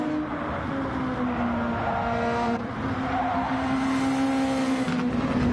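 Super Formula open-wheel race car at speed in the final sector of Autopolis in Gran Turismo 7, its engine holding a steady loud whine with gear shifts, heard on board without voices.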